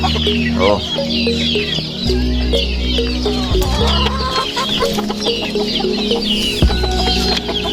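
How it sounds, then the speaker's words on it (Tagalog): Several chickens cluck and chatter close by in a busy farmyard, with short overlapping clucks and occasional squawks throughout. "may manok pa tayo dito"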